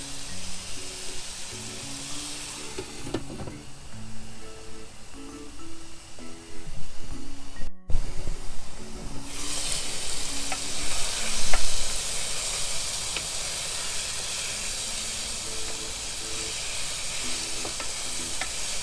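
Chicken pieces and onions frying with garlic salt in a Power XL cooker, a steady sizzle with stirring and scraping, brightening into a louder hissing fry partway through.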